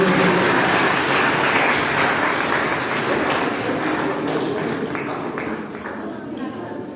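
A crowd gives loud applause at a school result declaration and prize distribution ceremony. The sustained clapping starts strong, then gradually thins and softens, with voices murmuring underneath.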